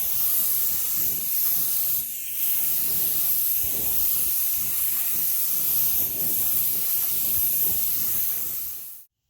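Spray gun laying down coats of candy blue car paint, a blue mixed two parts to one part reducer and one part catalyst; a steady, close hiss runs for several seconds with a short pause, then cuts off.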